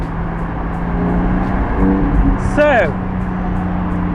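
A car cruises along a road at sunset, its cabin filled with a steady low engine and road drone while someone inside speaks briefly.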